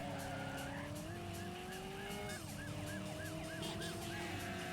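A police car siren wails with a rising and falling tone in the driving game Driver, over a steady engine drone and tire screech, sustained throughout.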